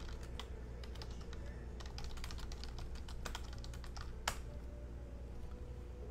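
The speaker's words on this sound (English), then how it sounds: "I'm going to be typing those in right there." Quiet, irregular keystrokes clatter on a computer keyboard, fairly close, over a low steady room hum. A voice speaks faintly in the background.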